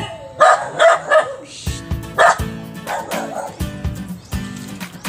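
A dog in a backyard garden barks in bursts, loud and close, with several sharp barks coming in quick clusters followed by quieter yips and whimpers.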